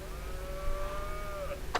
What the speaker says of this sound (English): Farmer Bill plays hide and seek with the cows.